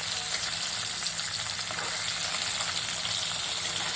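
Bata fish sizzle steadily in hot oil in a pan, a dense continuous frying hiss with soft bubbling underneath, close and even throughout with no voices.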